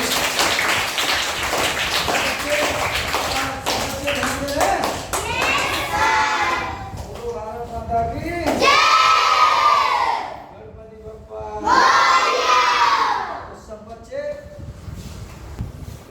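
Schoolchildren in a classroom clap and cheer in two loud bursts, each lasting a couple of seconds, after a teacher talks.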